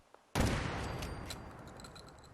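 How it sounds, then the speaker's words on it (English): A gun turret in the video game Fallout 4 opens fire in one sudden loud burst of rapid shots that trails off into a decaying rumble over about two seconds. "Oh, look, there's a gun turret."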